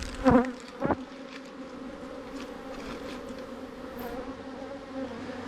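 Honeybees in an open hive during an inspection hum in a steady close drone, with a couple of louder buzzing bursts near the start as bees fly past.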